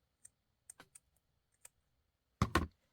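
Crafting scissors trim a junk journal ribbon between two tassels, faint isolated snips followed by two louder, crisp closing cuts near the end in an otherwise quiet room.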